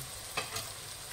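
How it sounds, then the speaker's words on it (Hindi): Onion and capsicum fry over a medium flame for street-style pav bhaji, giving a steady soft sizzle with a couple of brief stirring scrapes, close and fairly quiet, with no talking. "शिमला मिर्च को भी हम प्याज के साथ थोड़ी देर और पकाएंगे"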